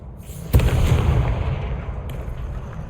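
A Confringo spell explosion in Hogwarts Legacy, one sudden loud blast followed by a long rumbling, crackling decay, with a faint second pop near the end.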